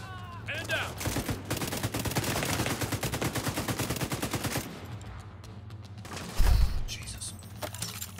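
Rapid automatic gunfire in The Division 2, a dense rattling burst of shots for several seconds, followed by quieter scattered shots and a heavy thud or explosion near the end.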